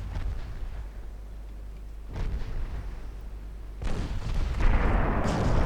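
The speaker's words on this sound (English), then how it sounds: "That was a pretty effective torpedo volley" Torpedo hits explode on warships in Ultimate Admiral Dreadnoughts, heard as several deep rumbling booms that swell and overlap, the heaviest ones arriving toward the end over a constant low rumble.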